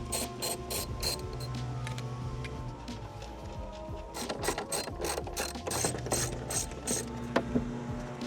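A hand ratchet clicks rapidly and steadily, close up, while bolts are tightened on a carbon fiber trunk lid being fitted to a BMW G20. A few uneven pauses break the stream of sharp metallic ticks.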